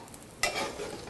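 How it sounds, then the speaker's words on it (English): Kale hits hot olive oil in a pan with a sudden sizzling hiss that carries on steadily for a moment, close and moderately loud, without speech. "we are going to put a little more olive oil in the pan and let our kale saute."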